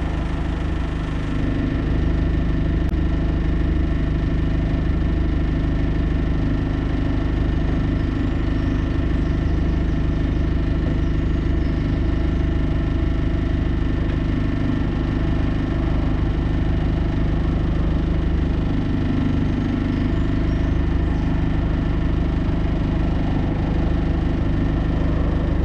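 A canal boat's engine idles steadily and continuously, a low, even rumble with constant vibration that holds at the same level throughout with no talking over it.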